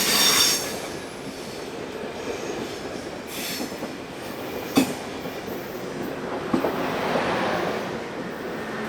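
A Swiss passenger train, the 1715 service from Lausanne hauled by locomotive 460-112 near Olten, rumbles past steadily with wheel and rail noise and a couple of sharp clanks partway through; no voices.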